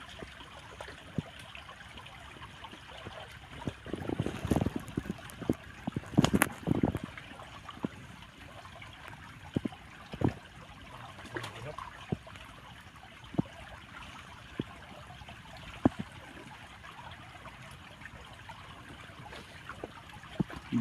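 A shallow creek in Palawan flows in a low, steady trickle, with scattered splashes and knocks close by as someone wades or reaches into the water, and a busier patch of sloshing near the start.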